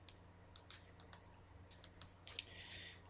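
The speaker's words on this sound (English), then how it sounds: "We're gonna label year, so I'm just gonna type in year." Computer keyboard typing during data entry, a short burst of several soft, close key clicks in an irregular rhythm, with brief pauses between presses and quiet hum underneath.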